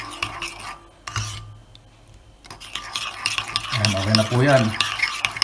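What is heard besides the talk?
stirring mayonnaise salad dressing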